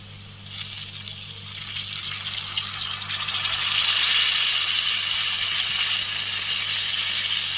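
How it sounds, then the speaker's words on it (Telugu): Steady gushing water pours into a pan of cooked onions for upma, a broad rushing hiss that swells louder midway and keeps going without pause. "ఇప్పుడు మనం వాటర్ పోసుకుంటున్నాము."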